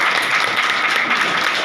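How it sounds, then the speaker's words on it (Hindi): Audience applause for a car fund achiever at a Vestige business event, a brief steady wash of clapping heard alone at close range. "एक बार जोरदार तालियां"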